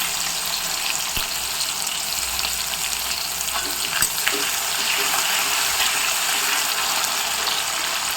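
A tomato drops into a hot kadai of oil for a spiced cauliflower roast, setting off a steady, loud, crackling sizzle that holds evenly throughout with no talking.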